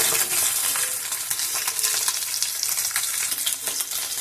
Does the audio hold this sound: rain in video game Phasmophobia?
no